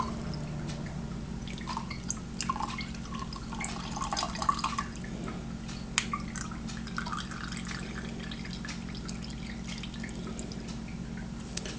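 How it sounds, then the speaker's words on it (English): Liquid from two opened cans of tuna draining into a sink or bowl, with soft steady dripping and trickling over a constant low hum from a big pot heating on an old stove nearby. "We'll drain the tuna."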